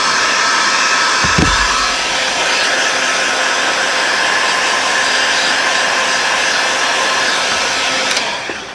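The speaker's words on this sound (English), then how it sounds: "Start heating it kind of slowly and gently, and don't hold it in one spot very long or you'll melt it." A hot air tool blows steadily on a Kydex holster sheet being warmed and loosened, a continuous loud whooshing hiss that runs unbroken, with a brief low bump near the start and no talking.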